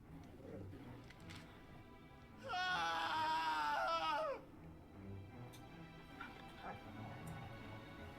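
Dog in the Final Fantasy XVI video game giving a sustained, loud whining whimper for about two seconds in the middle, over steady game background sound.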